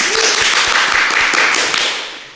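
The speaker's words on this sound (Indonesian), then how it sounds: "kita beri tepuk tangan" A group applauds at an event honouring the organiser of the Turbo Cup in Ngada, with loud, dense clapping and a few distinct slaps that fade toward the end.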